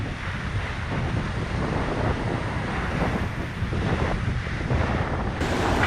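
Strong wind roars across the microphone aboard a racing yacht on a Volvo Ocean Race leg in 50-60 knot conditions, a constant loud buffeting rush mixed with the wash of waves and spray.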